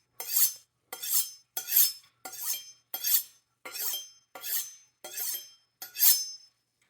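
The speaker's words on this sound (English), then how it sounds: "figured you might enjoy some knife sharpening ASMR" A knife is drawn along a sharpening steel or stone in nine separate strokes, each a bright scraping swish with a metallic ring, evenly spaced about three-quarters of a second apart in a quiet room.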